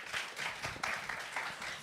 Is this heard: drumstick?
no